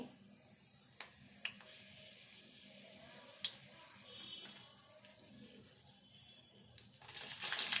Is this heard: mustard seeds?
yes